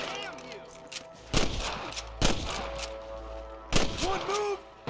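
Gunfire in the video game Red Dead Redemption: several sharp, loud shots fired at irregular intervals, with a low rumbling bed beneath and brief voices in between.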